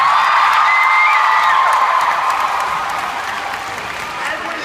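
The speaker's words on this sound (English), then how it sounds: "Can we please give them a big round of applause?" A concert crowd applauds at an evening show, a dense steady roar of clapping with some cheering mixed in, loud at first and easing slightly toward the end.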